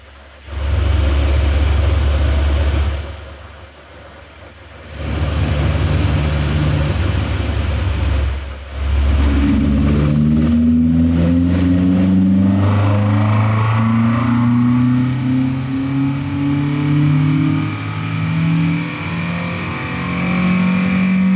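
An Alpine car's engine revs on a power dynamometer, loud and close, climbing in pitch through several pulls toward about 5000 rpm, with pauses where it drops to a lower idle between runs.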